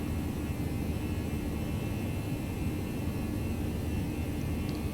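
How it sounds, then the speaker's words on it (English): Cockpit or cabin of a Toliss A319 airliner speeding up in flight in the X-Plane 11 simulator: a constant broadband engine and airflow rush, even and moderately loud throughout, no voices. "So the airplane is accelerating now to 250 knots."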